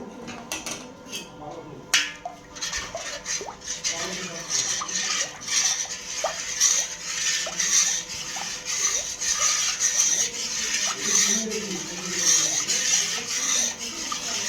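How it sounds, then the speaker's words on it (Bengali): A spoon stirs custard powder into milk in a pot, giving repeated light clinks and scrapes against the metal at an irregular rhythm, close by, with a steady background hiss. "কাস্টার্ড পাউডারটাকে গুলিয়ে নিচ্ছে।"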